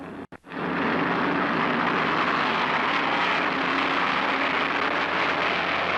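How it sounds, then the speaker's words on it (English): A 40-car field of 1972 stock cars revs up before the start of the World 600 at Charlotte, a brief dropout giving way to a loud, dense, sustained engine roar. "this 40-car field revs up"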